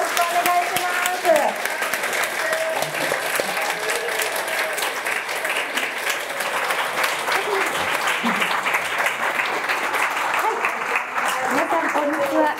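Audience at an anniversary talk show for a camera shop giving sustained, steady applause to welcome a guest onto the stage, a full, even roar of many hands lasting over twelve seconds with faint voices beneath.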